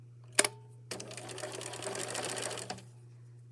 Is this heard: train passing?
no